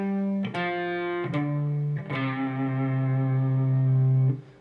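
Electric guitar playing part of a solo slowly, a few sustained distorted notes and bends rung out one after another, loud and alone with effects and reverb.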